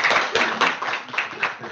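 An audience at a banking-network conference applauds in a dense, steady burst of clapping with small surging peaks, loud and close for under two seconds.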